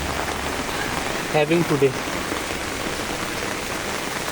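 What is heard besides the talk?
heavy rain seen from a building terrace in Bangalore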